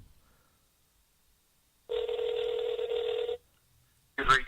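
A single ring tone plays for about a second and a half between silences as a telephone call goes out to voicemail, followed by a brief burst of a voice.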